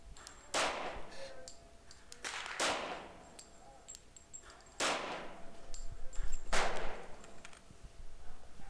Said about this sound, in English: And I'll shoot it through this 24.